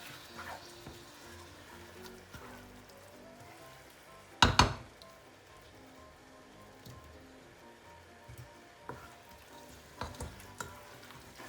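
Peppers fry quietly in a pan of efo riro with spinach and kale, a soft continuous sizzle broken by one loud clattering hit and a few lighter knocks.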